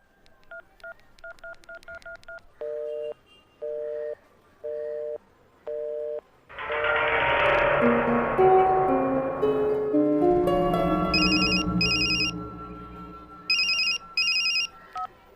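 A telephone is dialed with a series of distinct beeping keypad tones, then a burst of rising electronic ringtone melody and repeated high ringing pulses follow, all clear and close with no voices.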